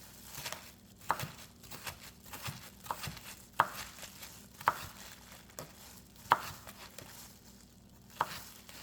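A slightly dull kitchen knife slices around a bell pepper core, giving soft, irregular cutting taps and clicks against a board at close range, with no one talking.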